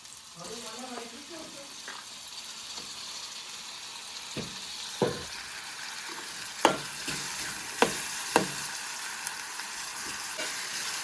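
Tomatoes frying in oil with onion and curry leaves already browned give a steady broadband sizzle with scattered sharp clicks of stirring, with faint low murmurs early on.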